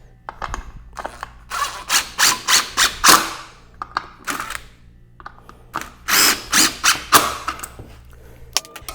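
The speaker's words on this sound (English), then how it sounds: "drive these screws" Power drill driving screws into a wooden Christmas tree base, a run of short whirring bursts in quick succession, loud and close, then a pause and a second cluster of bursts.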